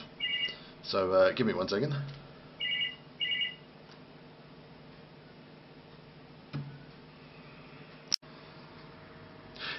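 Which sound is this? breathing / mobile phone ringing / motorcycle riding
mobile phone ringing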